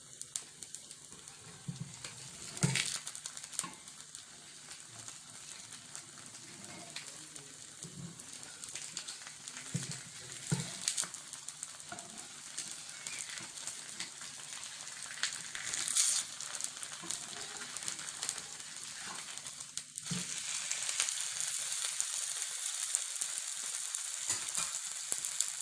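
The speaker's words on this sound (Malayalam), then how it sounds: "വെളിച്ചെണ്ണയൊക്കെ നന്നായിട്ട് തിളയ്ക്കുന്നുണ്ട്." Kappa (tapioca) dosa fries in boiling coconut oil in a pan, giving a soft, continuous sizzle broken by scattered pops and crackles that grow busier toward the end.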